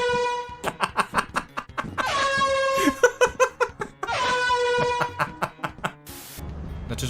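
In the video game Lethal Company, a horn item honks loudly in quick repeated bursts, three rapid volleys of bright, brassy blasts separated by longer sustained honks.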